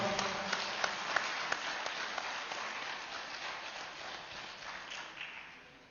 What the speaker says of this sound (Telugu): బ్రాండ్ అంబాసిడర్స్కి గట్టిగా చప్పట్లు కొడతాం